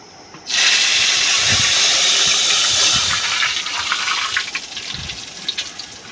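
A loud, steady hiss of earthworm fluid hitting hot oil starts abruptly and sizzles continuously, gradually easing and crackling toward the end.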